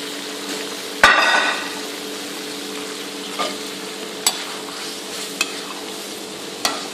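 Fried vegetables for vegetable Manchurian are tipped into gravy in a pan with one sharp opening clatter, then a soft steady simmer broken by a few isolated knocks of the spoon, with no talking.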